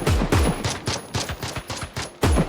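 Rapid gunfire in a video game, with a .50 cal among the guns, fires in loud close bursts, sharp repeated shots in a fast uneven rhythm that pauses briefly before resuming.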